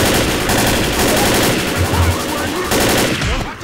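Sustained rapid gunfire in the Left 4 Dead video game, loud and continuous, with dense automatic bursts and only brief dips, under occasional indistinct voices.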